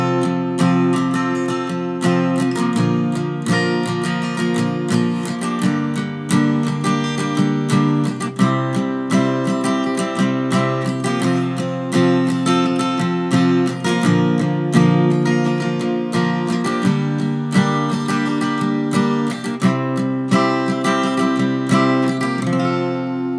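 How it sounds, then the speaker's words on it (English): A keyboard instrument plays a slow 1-4-2-5 cycle of sustained chords with a minor 2, the progression repeating steadily with no voices. "This is a 1, 4, 2, 5 progression."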